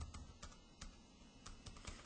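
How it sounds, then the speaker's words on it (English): Someone types steadily on a computer keyboard, with quiet scattered key clicks over a constant background hum. "watching grown people type, isn't that exciting?"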